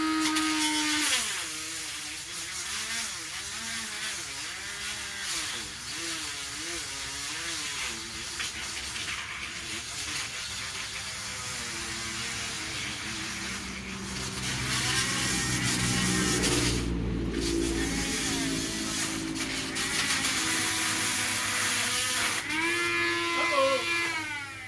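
A Dremel saw cuts through PVC pipe with a steady, buzzing, high-pitched whine that warbles as the blade binds and frees, running throughout at close range.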